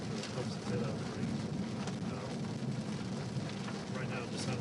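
Steady rain falling during a storm, a dense continuous hiss of drops on surfaces with a few sharper spatters, constant and moderately loud throughout.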